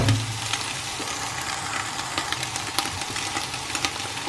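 Meat frying in a pan, a steady close sizzle with faint scraping and crackle running evenly throughout, no voices.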